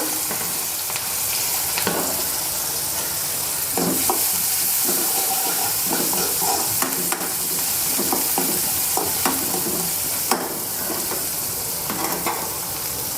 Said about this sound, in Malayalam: ഈ എണ്ണയിലേക്ക് തന്നെ നമുക്ക് എടുത്തിരിക്കുന്ന ഉള്ളി ഇട്ട് കൊടുക്കാം